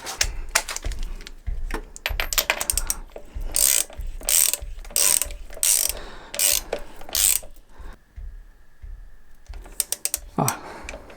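Ratchet wrench clicking in rapid bursts while removing a spark plug on a Honda Transalp motorcycle, close and loud, with pauses between runs of pawl clicks and a brief hum near the end.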